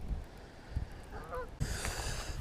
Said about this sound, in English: These geese over here are just freaking mean mugging